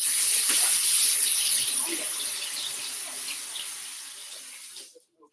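Water runs from a tap in a loud, steady hissing stream while fingers are rinsed under it, tapering slightly before the flow is shut off abruptly near the end.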